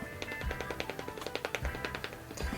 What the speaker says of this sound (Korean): 좀 더 얇은 면으로 해서 힘있게 여기다 이렇게 팡팡팡팡 두드려주는 거예요.